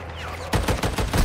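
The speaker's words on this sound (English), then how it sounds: "Someone's shooting at me." A rapid burst of automatic gunfire in an online shooter game, about six close, loud shots in quick succession after a brief moment of quiet ambience.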